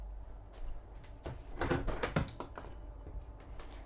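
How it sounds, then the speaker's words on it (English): Engine room door on a Majesty 100 super yacht being opened, a few close clicks and knocks of the latch and panel clustered in the middle, alone in a quiet interior. "Very easy door to open."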